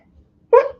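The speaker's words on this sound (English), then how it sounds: "Hold on, I gotta sneeze." A single person's sneeze, a short sharp burst that stands out loud and close against near silence, following a quiet lead-in.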